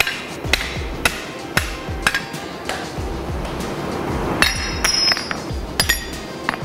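A hammer strikes forged metal pieces to break them off while making tooling in a workshop, a series of sharp, ringing metallic blows at a fairly steady pace with clinks between them, close and loud.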